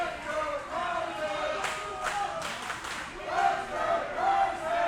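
A pro wrestling event crowd cheering and chanting behind a wrestler: a loud, sustained roar of voices with rhythmic swells, a commentator's voice speaking over the noise.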